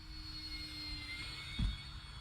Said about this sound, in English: Let's do a nice low and slow pass with flyby here.